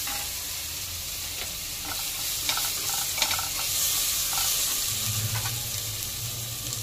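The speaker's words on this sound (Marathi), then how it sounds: "नंतर आलं लसूण पेस्ट आणि ही चांगली परतून घेऊया." Ginger garlic paste sautéing in a pan for ragda, a steady close sizzle with intermittent stirring scrapes, a low rumble joining in the last seconds, no talk.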